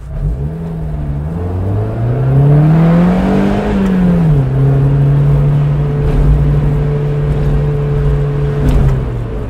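A Mazda Miata MX-5 NB with a 1.8L, 140 hp engine accelerates hard along a bumpy tree-lined road, its note climbing through a gear, dropping at the shift, then holding a steady loud drone.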